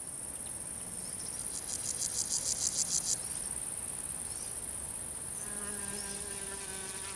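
Meadow insects in summer: a dense, steady high buzzing and trilling chorus, with a louder pulsing burst of chirps early on and faint whirring wingbeats nearby, no voices.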